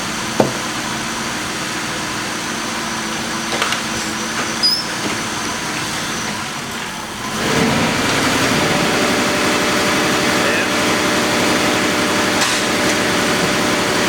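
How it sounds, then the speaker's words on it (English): A car with a no-code misfire, its engine idling steadily and then rising into a heavier, louder drone under load while brake torqued, a continuous close rumble with a few light knocks. "Now watch this signal when I brake torque it."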